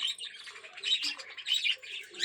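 Budgerigar chicks and their parent birds, including yellow chicks, chatter and squawk in a dense, continuous stream of shrill chirps at close range, with no talk.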